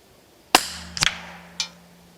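A Rossi 8122 .22 Long Rifle fitted with a Hawke Vantage scope fires at a target 80 metres away outdoors: one sharp, close crack, followed by a couple of fainter snaps and a later click.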